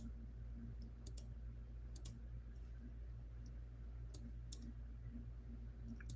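A computer mouse clicks sharply several times, single and double clicks spaced irregularly over a steady low hum, close and fairly quiet.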